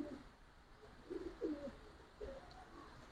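A Giribaz pigeon, a Bengali high-flying breed, gives soft, low coos in a few short bursts at close range against a quiet background.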